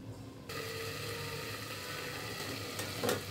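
Malabar spinach, potato, pumpkin and prawns simmering under a lid in a pan, giving a steady low bubbling and gentle sizzle throughout, with a brief clink near the end.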